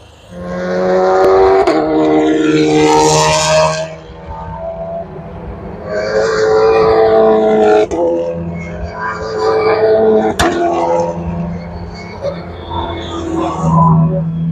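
GT race cars roar past during a qualifying session, engines rising and falling in pitch, loud and continuous, with one car after another.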